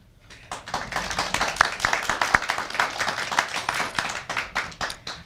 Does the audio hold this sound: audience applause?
yes